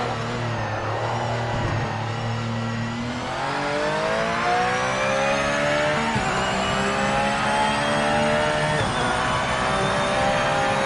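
Race car engine in a racing sim at Spa, revving and blipping through downshifts with rev-matching throttle stabs, pitch rising and falling in steady harmonic sweeps, loud and continuous with no talk.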